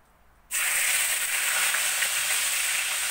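Crushed garlic, shallot and ginger paste drops into hot oil in a pan for a mackerel tuna curry. After a brief quiet start it bursts into a loud, even sizzle and hiss that runs on steadily.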